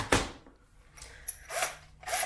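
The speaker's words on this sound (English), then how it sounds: "Drilling, drilling, drilling. Keep on drilling. Plastic." Short bursts of a drill whirring and grinding through plastic held in a vise, starting and stopping several times, close up.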